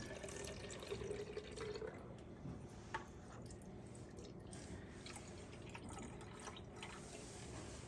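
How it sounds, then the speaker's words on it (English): Water poured into metal cans filling them about a quarter full, a faint trickle with a few drips and splashes over a quiet room hum. "put water in the cans, just fill it up about a fourth of the way."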